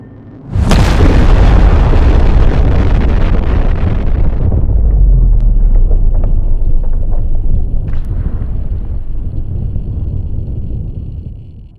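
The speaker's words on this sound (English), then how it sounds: "Airstrike complete." Airstrike explosions in Starship EVO erupt with a sudden loud boom, followed by a long rumbling roar that holds strong for seconds, with scattered smaller pops and crackles as it slowly fades.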